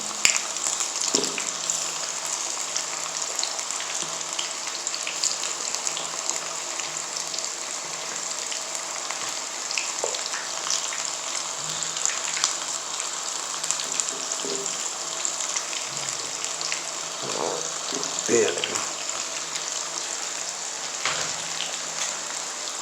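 Chicken leg pieces fry in a pan, giving a steady, even sizzle and crackle that runs close and unbroken with scattered pops and no voices.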